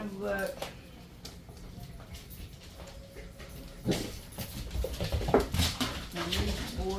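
Dogs whimper and whine indoors in the background while a person talks over them, with occasional thumps and shuffling nearby.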